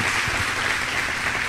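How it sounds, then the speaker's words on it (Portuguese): Seminar audience applauding to welcome new attendees at a business mentality event, a loud, close, continuous roar of many hands clapping with no pauses. "Vamos a dar un aplauso y bienvenidos."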